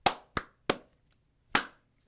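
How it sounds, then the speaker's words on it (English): Four sharp hand claps ring out, three in quick succession and then a fourth after a short pause, crisp and close in a quiet room. "A little clap."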